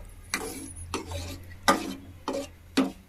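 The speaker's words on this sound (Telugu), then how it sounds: "దీన్ని ఎత్తి పప్పులో వేసుకోవాలి. పప్పులో వేసుకుని కలుపుకొని మంచిగా" A spoon stirs fried onions into cooked green gram lentils in a pot, making five separate scraping strokes at a slow, uneven pace, close and fairly quiet.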